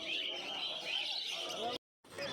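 Fischer's lovebirds chirp from a crowded cage at a pet market in Uluberia, a soft, continuous twittering heard fairly faintly and broken by a brief gap of silence.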